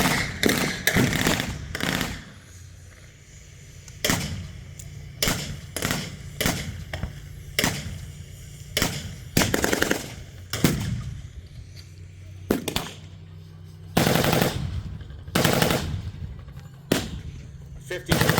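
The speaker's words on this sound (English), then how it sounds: "Firing from the Humvee. Return fire from the Dishka on the T-54." Heavy machine gun fire traded between a Humvee and a DShK mounted on a T-54 tank, loud sharp bursts and single cracks in irregular volleys, close and distant, with a voice speaking between shots.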